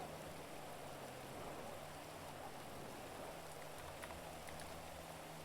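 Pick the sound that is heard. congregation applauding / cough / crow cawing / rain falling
rain falling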